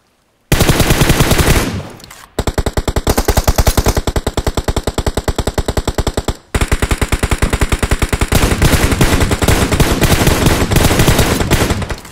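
Rapid automatic gunfire in PUBG Mobile, long loud bursts of shots with two brief pauses between them.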